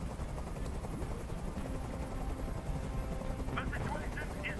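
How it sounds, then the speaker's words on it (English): A helicopter in a video game hums in a steady, dense drone, with bursts of gunfire mixed in and a voice talking over the top. "Tell that helicopter to get out of here."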